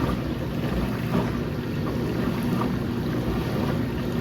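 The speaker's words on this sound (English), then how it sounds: "now the Eufy is running. It is definitely a lot louder than the Momcozy" A Eufy S1 bottle washer running, giving a steady, fairly loud whooshing hum with churning noise throughout and no pauses.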